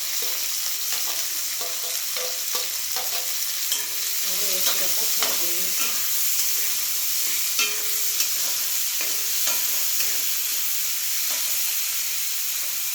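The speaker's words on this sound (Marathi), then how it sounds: "तेलामध्ये जिरं टाकून घेते हिंग टाकते आणि आता कांदा टाकून घेते" Onion fries in oil with cumin and asafoetida for a raw jackfruit curry, a steady close sizzle broken by brisk stirring scrapes and soft taps throughout.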